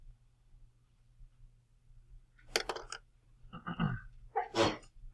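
A person sneezes in a quiet room with a faint low hum, a short sharp burst followed by a breathy sound and then a second loud sneeze a moment later.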